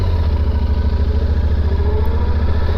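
Yamaha Super Tenere motorcycle rolling slowly through snow, its engine giving a steady, close, low rumble with a constant throb throughout.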